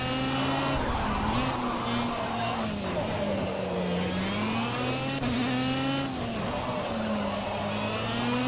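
A racing kart engine in the Project CARS video game whines and revs continuously, its pitch rising and falling with throttle changes through corners, loud and close with no pauses.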